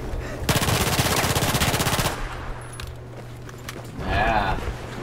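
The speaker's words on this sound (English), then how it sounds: "Now that's a close range weapon. That thing just spits bullets." A close range weapon in Battlefield 4 fires a rapid, continuous burst lasting about a second and a half, loud and close, before stopping. Quieter game sounds follow and a voice talks briefly near the end.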